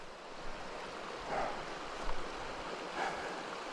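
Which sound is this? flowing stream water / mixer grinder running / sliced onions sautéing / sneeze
flowing stream water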